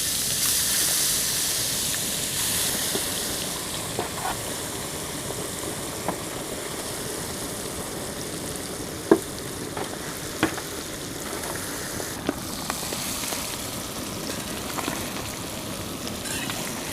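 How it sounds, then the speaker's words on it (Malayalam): Eggs fry in a pan for a spicy egg pepper fry, giving a continuous close sizzle and hiss with scattered pops and crackles, plus a few sharp clicks of utensils throughout. "ബാക്കിയുള്ള എല്ലാ മുട്ടകളും കൂടി പൊരിച്ചെടുക്കാം."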